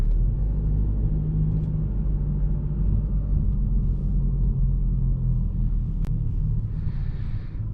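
A 2021 Mercedes E-Class AMG Line with a diesel engine parks at night, heard from inside as a steady, low engine rumble that carries on evenly throughout, with a faint click near the end and no talking.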